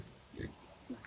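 A pig gives two short, soft grunts about half a second apart, faint and close, with a quiet background.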